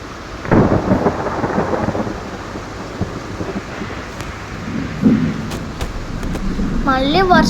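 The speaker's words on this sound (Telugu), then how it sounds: "మళ్ళీ వర్షం మాత్రం పడేస్తుంది." A thunderstorm with rain around a bus being driven on a rainy day: thunder rumbles low under a continuous wash of rain and cabin noise, with a few sharp clicks and a rising whine near the end.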